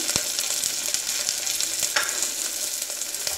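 Whole spices with green and red chillies sizzling steadily in hot oil in a pan, a continuous loud frying hiss with small pops throughout.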